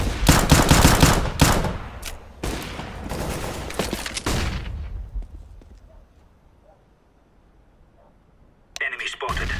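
Counter-Strike: Global Offensive gunfire rings out in rapid, loud bursts over the first few seconds, then fades into a quiet lull before a short burst of noise at the end.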